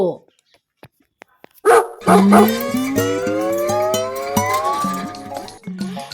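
A dog barks and howls in a comic Bengali audio story, with a few sharp barks followed by a loud, drawn-out wavering howl, all close and prominent, alone after some faint clicks.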